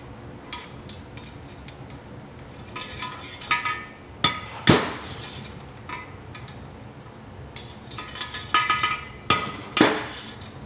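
A hammer striking parts of a junkyard 289 Ford engine during teardown, sharp metallic blows landing in irregular clusters, some single and some in quick pairs, close and loud against a quiet shop background.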